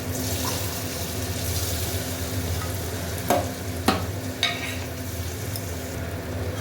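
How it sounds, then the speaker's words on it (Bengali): Small paneer cubes fry in a pan with a steady sizzle and stirring close by, broken by a few sharp clinks and scrapes of a utensil. "পনিরগুলো ভাজবো"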